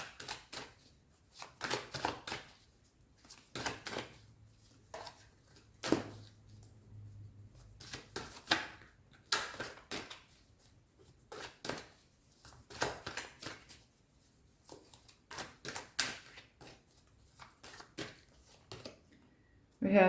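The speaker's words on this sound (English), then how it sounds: "Let's pull cards now for the Three of Swords." Tarot cards shuffled and drawn during a pick-a-card love reading: a long run of soft, crisp riffling and flicking bursts in irregular clusters, close and fairly quiet, with brief pauses between handfuls.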